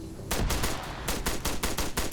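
Rapid bursts of gunfire from a competitive video game match ring out, loud, dense volleys and machine-gun-like strings firing almost continuously.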